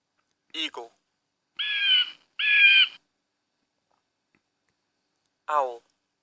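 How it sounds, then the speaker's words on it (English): An eagle calls twice in a row, two loud, drawn-out screeching cries close together, with a single spoken word before and after. "eagle,"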